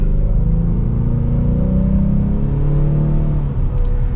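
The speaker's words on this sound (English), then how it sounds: "it is a pretty peppy 4-cylinder engine" The 4-cylinder EcoBoost engine of a 2024 Ford Mustang with a six-speed manual pulls under acceleration on a test drive, a loud, steady, deep droning rumble with no break.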